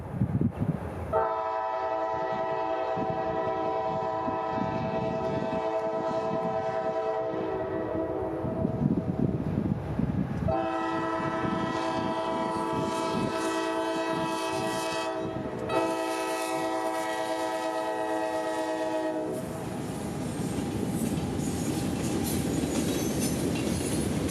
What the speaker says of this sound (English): Yet another Central Florida train, running as Unit Rock from the mines in Brown Sand, Georgia to Winston, Florida